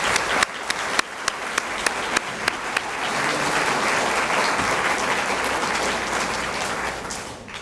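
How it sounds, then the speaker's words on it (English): An audience applauds Mount Juliet High School at a school district awards ceremony. A few sharp, separate claps quickly swell into steady, full crowd applause that holds to the end. "Another round of applause"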